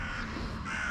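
Crows cawing steadily and fairly loud, harsh repeated calls overlapping one another with no pause, alongside pigeons at an outdoor feeding spot.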